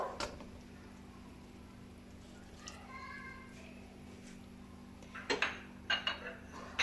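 Chow mein sauces, including Worcestershire sauce, being stirred together in a pan over a low steady hiss, with a few clinking metal scrapes and taps near the end.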